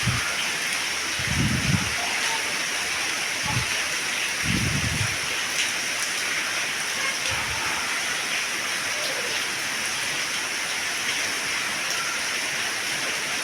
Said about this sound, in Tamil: இன்னும் நல்லா பேஞ்சு முடிக்குமென்று தான் நினைக்கிறேன் சரியான மழை